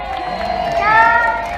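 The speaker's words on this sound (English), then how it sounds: "Can I get a big cheer for the Reds, please?" A crowd at a police dog show open day cheers for the red team, a short burst of loud mixed shouting and children's voices swelling toward the middle.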